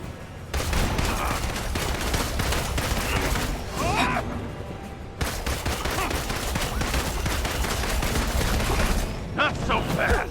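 Sustained gunfire in the video game Marvel's Avengers, loud rapid bursts and dense crackling shots filling the mix with a brief pause midway, with speech faintly underneath.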